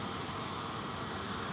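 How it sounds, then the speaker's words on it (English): A Jetstar Airbus A320neo taxis at Sydney Airport at night, its engines giving a steady, faint, distant roar and whine with no talking. "One of the new Jetstar's now coming up, taxiway Charlie 320 Neo, going to the Gold Coast"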